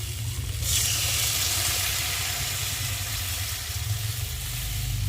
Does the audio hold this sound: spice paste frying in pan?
yes